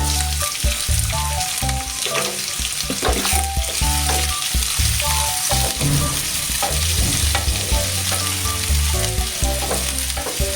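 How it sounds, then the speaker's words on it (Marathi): Curry leaves and chopped onion hit hot oil with mustard seeds in a pan, giving a loud, steady sizzle with clinks and scrapes of stirring throughout, no voices over it. "कढीपत्ता, कांदा टाकूयात"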